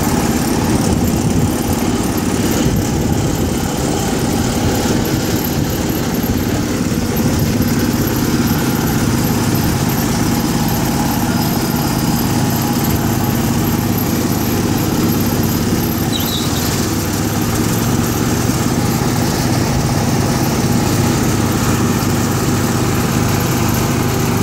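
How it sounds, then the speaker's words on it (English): A small garden tractor engine runs steadily throughout, a constant loud mechanical drone with no talking. "that's his mowing machine."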